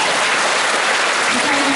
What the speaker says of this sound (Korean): 열강해 주신 유홍준 교수님께 다시 한번 큰 박수 부탁드리겠습니다.